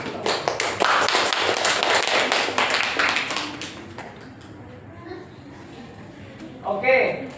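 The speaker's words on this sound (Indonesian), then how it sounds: "Beri tepuk tangannya untuk sekali lagi." Audience applause at a school stage storytelling festival, a dense burst of clapping that fades after a few seconds, with a voice speaking over and after it.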